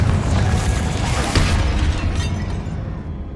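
A Confringo blasting spell in Hogwarts Legacy bursts in a loud, dense crash of rumbling and crackling noise that holds steady for a few seconds before tapering slightly, with no talking.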